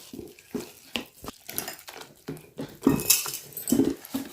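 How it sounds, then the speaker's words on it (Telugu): Gram flour batter is mixed in a bowl, giving a rhythmic series of wet slaps, taps and clinks as a hand or spoon beats it, fairly close and steady. "మనం శనగపిండి అయితే కలుపుకోవాలి"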